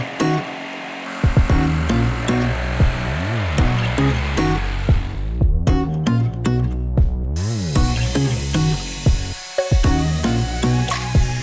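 A Black & Decker jigsaw cuts through a plywood sheet, its motor buzzing loud and close with a steady, rapid blade rasp that rises and falls in pitch as the cut goes on, with one short pause midway.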